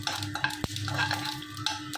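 Hot oil crackles and sizzles in a pan as mustard seeds pop alongside chana dal, with a sharp utensil clank partway through.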